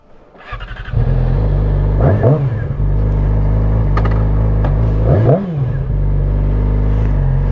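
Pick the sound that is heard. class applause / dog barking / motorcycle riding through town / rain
motorcycle riding through town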